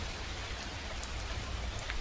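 Steady rain falls on surfaces in a continuous even hiss, soft and unbroken throughout with no voices.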